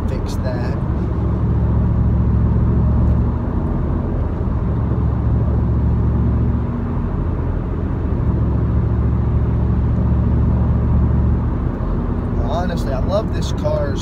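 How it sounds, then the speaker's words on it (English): A 1997 Camaro Z/28 with its 285 hp LT1 V8 drives along, giving a loud, continuous low rumble that holds steady throughout, with people talking over it. "you can hear the V8 open up"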